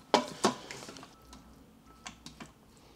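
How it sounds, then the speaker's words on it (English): Spoon stirring turkey chili ingredients in an Instant Pot, a few sharp scraping clicks close up at the start, then quieter scattered taps and scrapes. "I'm just going to stir that around"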